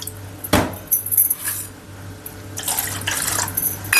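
Water is poured from a cup into a bowl of thick curd in a kitchen, a close splash followed by trickling and sloshing, with a glassy clink early and a steady low hum underneath.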